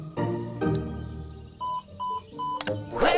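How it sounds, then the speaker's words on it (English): An alarm clock rings in a video game: three short repeated electronic beeps sound in the middle, amid other game effects and noises at the start and end. "Round up all the alarm clocks."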